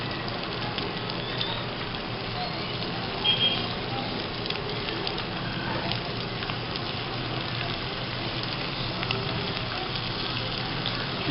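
Chicken Manchurian pieces frying in oil over medium heat until light golden, a continuous dense bubbling sizzle at steady level, close and alone without talk.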